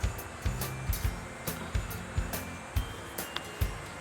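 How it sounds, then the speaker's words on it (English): An electric fan runs in a hot room in the Philippines, a steady whooshing drone with a regular pulsing thump about twice a second, close and constant with no talking. "I'm sorry for the fan noise"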